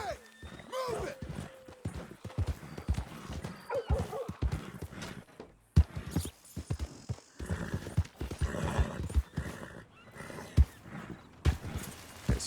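Horse hooves gallop in Red Dead Redemption 2, rapid uneven clopping with a whinny, mixed with game sounds and someone talking over it.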